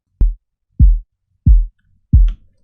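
The sub layer of a layered kick drum: four deep, booming thumps evenly spaced, each short with a fast low-frequency decay, heard alone.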